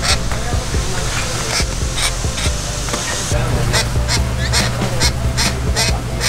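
Birds honk and call repeatedly at Xplor park in Mexico during breakfast, with loud, close, rhythmic squawks over a busy background of clatter and ambient noise.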